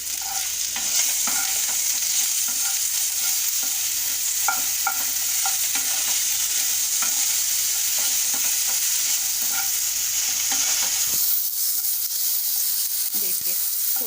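Lotus stem slices fry in a pan with salt, crackling in a steady broadband sizzle while a spatula scrapes and stirs in irregular taps throughout, with a brief quieter pause near the end.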